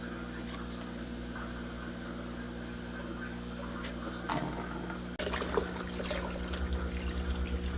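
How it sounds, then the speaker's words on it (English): A siphon hose draws water from an aquarium, producing a continuous gurgling, trickling flow that grows louder and splashier partway through, close to the listener. "now that we got the siphon going on, we'll fill this up 3/4 of the way"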